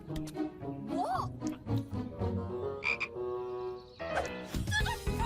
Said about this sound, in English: There's a frog in my trousers!